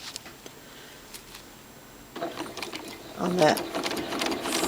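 A sewing machine doing free motion quilting starts out faint, then runs in a quick mechanical patter that grows louder toward the end, with brief speech over it.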